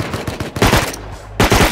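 Tommy gun fire in Rust: a rapid burst of close, loud automatic shots, a brief pause, then another sharp burst at the end.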